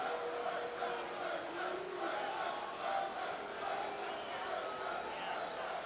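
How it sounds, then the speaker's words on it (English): A packed crowd at the Atlantic City Convention Hall boxing arena murmurs and calls out while awaiting Riddick Bowe, a continuous roar of voices at steady volume with no single speaker standing out. "the crowd getting a little bit restless as they await Riddick Bowe"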